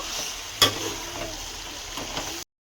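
Country chicken curry sizzles in a pan as it is stirred, a steady soft crackle with a sharp scrape of the spoon near the start and a few lighter clinks before it cuts off.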